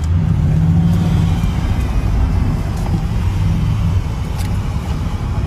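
A car drives at speed on a highway, its engine and road noise forming a loud, steady rumble that swells slightly as it accelerates, with no talking.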